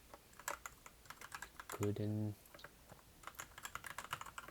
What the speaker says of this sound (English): too fast typing.